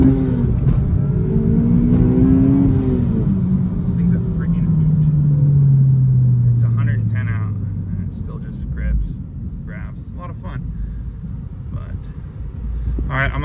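Supercharged 2009 Honda Civic Si sedan with Kraftwerks kit pulls hard through first and second gear, engine note rising, dropping at the shift, then rising again, loud and close, with speech over the later part.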